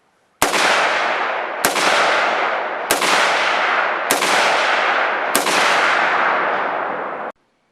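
Five loud rifle gunshots from a 16-inch barrel fitted with an A2 muzzle device, fired at night, each a sharp crack followed by a long rolling echo, spaced roughly a second apart with no talking.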